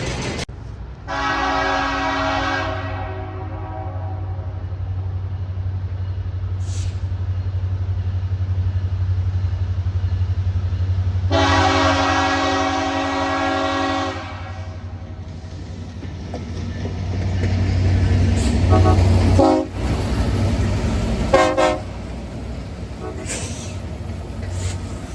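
A long freight train pulled by four SD70 locomotives rolls past a waiting passenger excursion on the Arkansas & Missouri Railroad. A steady low engine rumble runs throughout, with two long horn blasts and rattling cars as it passes close by.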